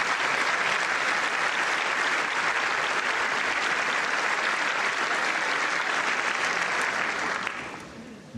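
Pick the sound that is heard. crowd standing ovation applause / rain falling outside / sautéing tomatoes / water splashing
crowd standing ovation applause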